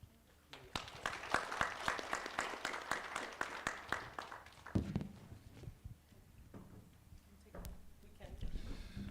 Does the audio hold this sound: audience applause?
yes